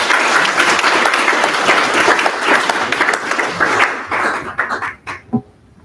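An audience at an intern symposium applauds a speaker, with loud, dense clapping that holds steady and then thins out into a few scattered final claps.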